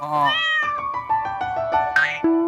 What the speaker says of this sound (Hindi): वो बिल्ली की आवाज क्यों निकाल रहा है?